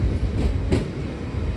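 A MEMU passenger train running on the rails near Sattenapalli gives a steady, loud rumble with a short clatter of wheels partway through.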